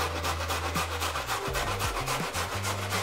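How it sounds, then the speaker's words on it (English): Carrots being grated on a fine grater, a continuous close scraping and rubbing with steady back-and-forth strokes and no voices. "Before you start making your batter, you want to grate the carrots."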